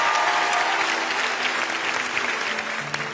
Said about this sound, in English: Would everybody here give Annika a huge round of applause as she comes on stage?